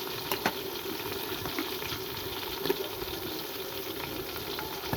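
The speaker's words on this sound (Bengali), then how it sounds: "এখন আমি এগুলোকে হালকা একটু ভেজে নিব" Green peas fry lightly in a pan for a basmati pulao, giving a soft, continuous sizzle with a few faint stirring clicks and no talking.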